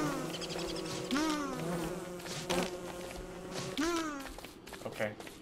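Bees buzzing in the survival game Don't Starve Together, a steady droning insect hum with rising and falling tones. It plays alongside game music and other busy background sound.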